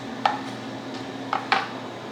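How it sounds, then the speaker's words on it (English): A kitchen knife slicing food into large pieces on a board, three short crisp cuts, one early and two close together near the end, over a quiet room hum with no voices. "Cutting into nice big slices."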